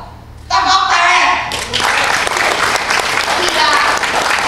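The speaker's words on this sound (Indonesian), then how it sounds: "Tepuk tangan" Loud audience applause breaks out after a brief moment of quieter sound and swells into a dense, sustained roar of clapping, with voices mixed in beneath it.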